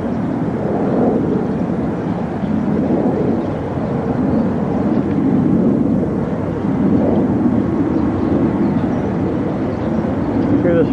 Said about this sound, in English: Hear this fucking jet from behind me.